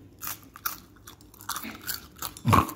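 Crunchy homemade snack food being chewed in a kitchen, with irregular crisp bites and crunches close to the ear that grow louder toward the end, alone without speech.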